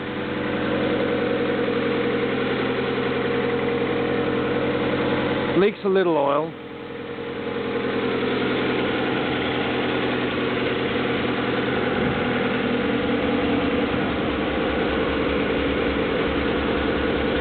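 A rebuilt Honda F22 VTEC engine in a worn Accord idles steadily after a cold start, a continuous low mechanical hum with a brief disturbance partway through while a person speaks briefly over it.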